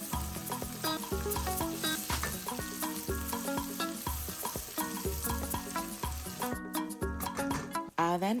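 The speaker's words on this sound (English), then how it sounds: "I'll add my sliced onions and I'll fry it" Sliced onions fry in a mix of palm oil and coconut oil for a koobi and corned beef stew, giving a close, steady sizzle with stirring throughout and no talk.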